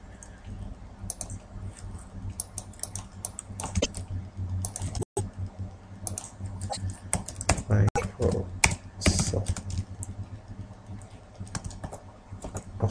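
Quiet, irregular key clicks come from a computer keyboard as a code is entered in accounting software. A voice talks faintly underneath.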